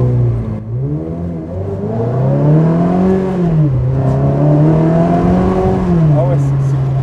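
Ferrari accelerating hard during a passenger ride, its engine note climbing and dropping through several gear changes, heard close from inside the cabin with people talking over it.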